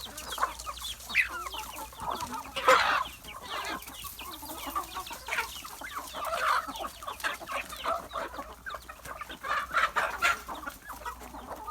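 Several chickens, including a rooster, cluck and murmur continuously on a farm, with occasional louder squawks rising above the flock's steady chatter.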